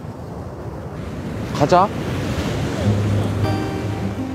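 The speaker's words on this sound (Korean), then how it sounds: "와, 파도 봐라." Ocean waves and surf rush steadily on a beach, with wind buffeting the microphone. A short spoken word and brief voices break over the continuous roar.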